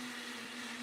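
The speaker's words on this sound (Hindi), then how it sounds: "मिक्सी चल रहा है।" A kitchen mixer grinder whirs continuously at high speed, a steady loud motor drone with a strong hum, heard at a distance through a room with the door open.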